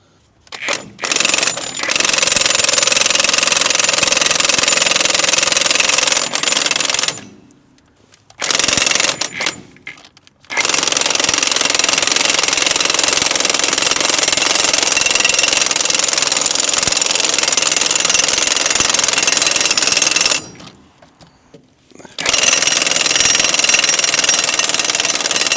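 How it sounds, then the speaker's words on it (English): Big impact wrench working on a Case 850B track loader: loud, rapid hammering bursts that run for several seconds at a time, broken by short pauses, close and harsh. "I'm going to try this big impact."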